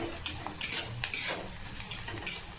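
A utensil stirs sprouted moth beans (matki) sautéing in a pan for Kolhapuri misal, with repeated close metallic scrapes and clinks against the pan over a faint sizzle.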